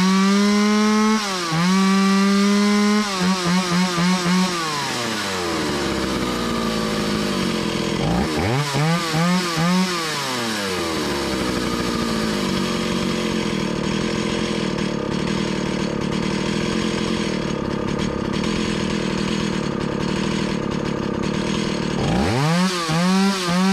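An antique Stihl 028 Wood Boss chainsaw runs after carburetor tuning of the high-speed screw, revving up to a loud, steady whine several times, dropping back to idle between bursts, close to the mic with no speech.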